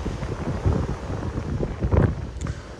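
Wind gusts buffet the microphone on a stormy Black Sea promenade in Adler, a steady rough rumble rising in louder surges with no one speaking.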